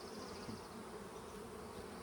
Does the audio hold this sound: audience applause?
no